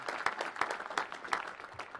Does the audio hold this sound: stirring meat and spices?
no